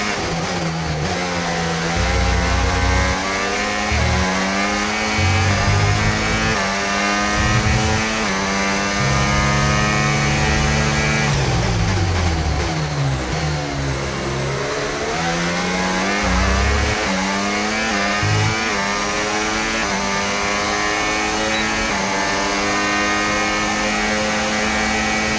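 Formula 1 race car engines in the F1 25 racing game scream at high revs throughout an overtaking move, loud and continuous, with pitch rising and dropping through gear changes and passing cars blending together.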